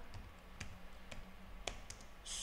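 A few sparse, faint clicks of computer keys as a command is typed on a keyboard in a quiet room, spaced irregularly with a brief louder patch at the end.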